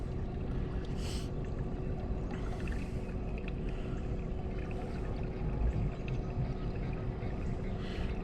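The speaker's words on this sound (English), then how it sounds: "I'm using my trolling motor. We're doing almost 2 miles an hour right now." A fishing boat creeps along at about two miles an hour on an electric trolling motor, a steady low hum with soft water lapping against the hull, calm and continuous.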